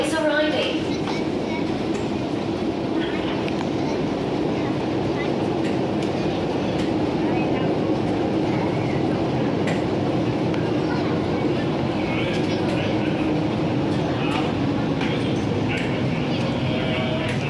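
Hong Kong MTR Island Line M-Train running toward Chai Wan, a steady, loud carriage rumble and hum throughout, with a muffled voice heard faintly over it.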